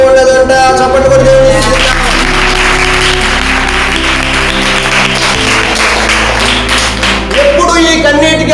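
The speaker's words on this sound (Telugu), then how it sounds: "చప్పట్లు కొట్టి" A Christian congregation claps its hands in a sustained, fairly loud burst of applause over sung or played music, which rises after a moment and then tapers back to the music alone.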